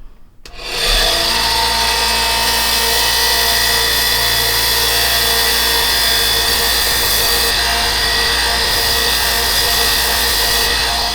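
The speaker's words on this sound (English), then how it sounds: "we're going to get rid of this extra glue on here with the old belt sander" A belt sander with a freshly changed belt grinds old glue off golf club ferrules, starting abruptly and then running as a loud, steady, high-pitched whirring drone without pause.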